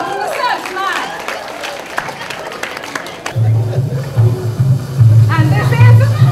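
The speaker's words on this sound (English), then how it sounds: "Clap for yourself now." Audience at a Jamaica Emancipendence celebration bursts into applause with cheering, a dense crowd clapping that swells louder in the second half, with a booming low-pitched sound system or voice underneath.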